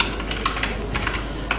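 A command typed on a computer keyboard of a FUZE BASIC system, several soft keystrokes in a brief run over a constant background hum.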